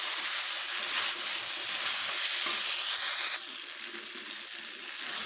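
Potato and fried cauliflower being stir-fried in a pan, a loud, close, continuous sizzle that drops a little in level partway through, with no talk.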